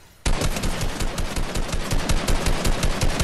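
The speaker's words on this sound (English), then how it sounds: "someone else is shooting him" Rapid automatic gunfire in the Fortnite video game starts abruptly after a brief quiet moment and continues as a loud, dense, evenly paced burst of shots to the end.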